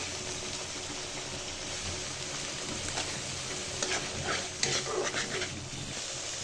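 Biryani masala with yogurt fries in a pan, a steady close sizzle with occasional stirring scrapes and a few brighter crackles toward the end.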